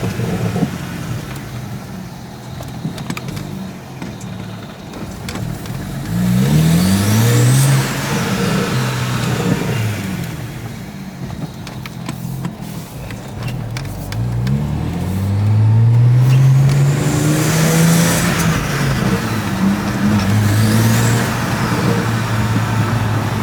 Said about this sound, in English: taking the 335 for a quick little spin here